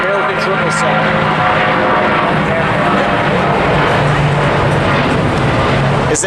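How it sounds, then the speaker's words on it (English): An American Airlines Boeing 777 jet roars at full power on takeoff at LAX, a loud, steady engine rumble and whine filling the air without pause. "American 777."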